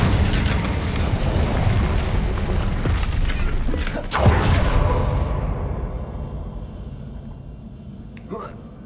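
A Confringo fire spell goes off in the Hogwarts Legacy video game: a loud, dense rush of noise swells into a deep boom midway, then fades to near quiet with a faint late flick.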